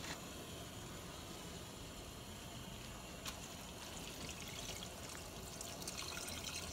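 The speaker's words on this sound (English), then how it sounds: "And now I'm going to add some of the broth." Chicken broth poured into cornbread dressing, a steady soft liquid trickle and splash running continuously at moderate distance with no talk.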